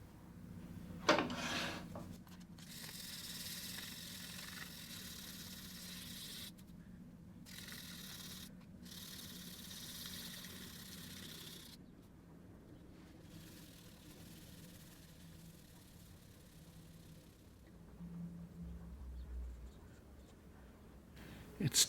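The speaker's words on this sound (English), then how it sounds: "So I'm just going to give this a quick sand and a polish" A dichroic glass cube is sanded and polished by hand, giving faint, close scratchy rubbing strokes that start and stop in uneven bursts over a quiet background.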